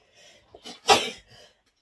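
A single sharp sneeze up close, with a quick inhale beforehand and a brief breathy trail afterward, loud against a quiet room.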